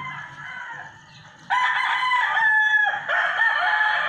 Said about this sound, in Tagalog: Dami chicken dito eh.